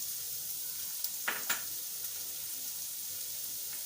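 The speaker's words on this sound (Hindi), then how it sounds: "इसको हल्का सा फ्राई करना है, लाल नहीं करना है, हल्का सा फ्राई करना है।" Chopped ginger and green chillies frying gently in a pan, a steady soft sizzle with a couple of brief stir clicks, close and without speech.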